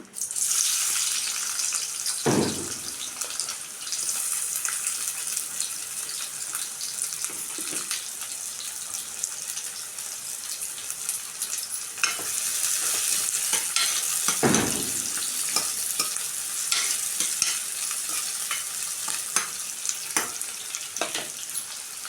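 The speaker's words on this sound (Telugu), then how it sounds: "ఇదిగోండి ఆయిల్ అయితే వేడైపోయింది. ఇప్పుడైతే ఉల్లిపాయలు, పచ్చిమిరపకాయలు అయితే వేసుకుంటున్నాను." Sliced onions and green chillies fry in hot oil for a chicken fry, a dense continuous sizzle with a few louder stirring scrapes and clanks against the pan, close up and without speech.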